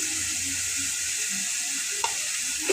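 Ginger, garlic and onion paste frying in oil for a mutton-with-greens dish gives off a steady, moderately loud sizzling hiss, with a couple of faint utensil taps near the end.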